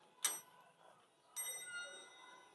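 A doorbell at a house rings twice, with two clear chimes about a second apart that are close but soft and ring out briefly against a quiet background.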